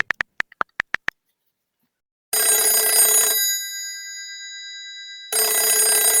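An outgoing mobile phone call: a quick run of sharp clicks, then two long, loud electronic ringback bursts separated by a silent gap, with no voices.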